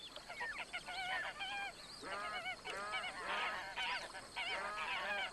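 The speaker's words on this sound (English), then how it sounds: "The magpie goose enlarges her area, caressing the mud with a lazy beak" Magpie geese honk repeatedly in a marsh, a chorus of overlapping nasal calls in quick bursts, moderately close and filling the scene without talk.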